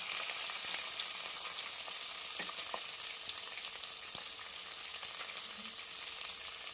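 Onions, green chillies and dried red chillies fry in a pan, giving a steady, fairly faint sizzling hiss with a few soft clicks of stirring throughout, no voices.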